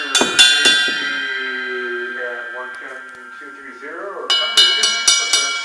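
Cymbal bell struck repeatedly, bright ringing strikes with long shimmering sustain, a pair of hits early then a quick run of several more near the end, close and loud.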